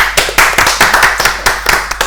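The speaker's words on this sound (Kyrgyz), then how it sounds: "Кол чабуулар." A studio audience at a comedy show claps in dense, loud applause, with rapid overlapping hand claps that hold steady from start to finish.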